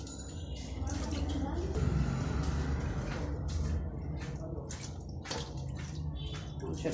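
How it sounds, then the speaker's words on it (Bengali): Raw meat is rinsed by hand under running water, with a steady gush and splashing close by and occasional drips. A voice murmurs faintly in the background. "মাংসটা সুন্দর করে ধুয়ে নিই।"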